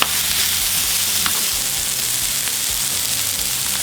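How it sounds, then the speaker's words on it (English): Shallots and garlic sauté in a hot pan with mushrooms, giving a steady, close sizzle that holds evenly throughout with a few faint stirring scrapes and no talking. "Now we're going to add in our shallots and our garlic, and we're going to saute this up for about 2 minutes."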